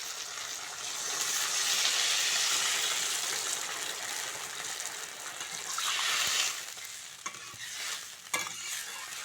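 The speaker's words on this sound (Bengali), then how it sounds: "মশলাটা ভালো করে কষে নিয়েছি এবার জল দিয়ে দেবো জল" Water poured into a pan of fried spiced masala for egg curry sets off a loud, steady hiss and rush that fades after about six seconds, followed by a few soft clatters.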